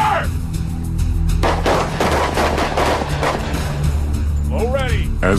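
Police SWAT team firing guns in a training demonstration, with sustained loud bursts of gunfire over several seconds under a shouted command and background voices.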